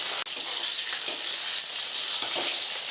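Nigella seeds and green chilies hit hot oil for tempering and crackle in a steady, close sizzle, with a few brief louder spits and no talking.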